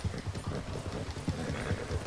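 A horse gallops in Red Dead Redemption 2, its hooves drumming in a fast, steady, close rhythm that carries on without a break.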